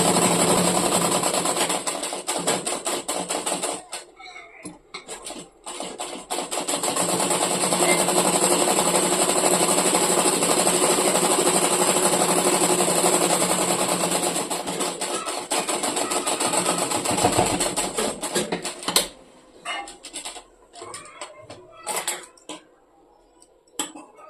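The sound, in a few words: sewing machine stitching a shirt cuff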